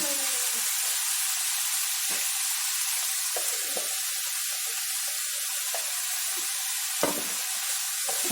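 Crushed spice paste hits a hot pan with chopped yam stems and onions for a Kerala thoran, giving a loud, steady frying hiss and sizzle throughout, broken by a few faint crackles and clicks.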